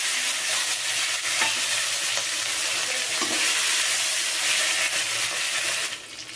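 Tomato frying in hot oil with two bay leaves and a five-spice tempering, a dense continuous sizzle with stirring scrapes close by, easing off near the end.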